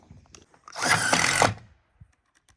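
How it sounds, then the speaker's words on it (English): A power drill drives a screw into a shed roof during an off-grid shed build in Alaska, one close, loud burst of under a second rising out of quiet, with faint handling knocks around it. "So it's always better if you drill them."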